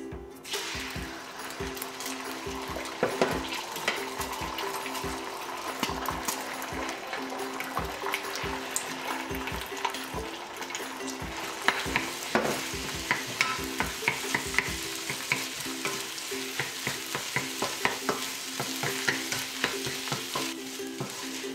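Beaten egg and rice stir-fry in vegetable oil for Japanese fried rice, with a continuous sizzle and a rapid run of close spatula scrapes and taps on the pan.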